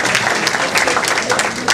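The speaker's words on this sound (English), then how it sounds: "How about a round of applause for all the members of the Block Association." Steady applause from an audience at a Woodhaven Residents' Block Association community celebration in 2014, dense clapping filling the room at a constant level without a break.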